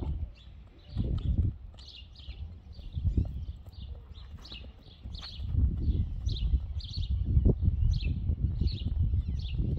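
A criollo horse moves about with soft, irregular hoof thuds on the ground, while birds chirp repeatedly in the background at a fairly quiet level.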